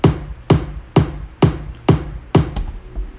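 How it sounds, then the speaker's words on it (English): Bit-crushed top kick drum with the low end cut, struck six times at a steady dance tempo, each hit a sharp crisp transient with a short decaying tail, dry and close with no voices. "So this kick drum sounds like this."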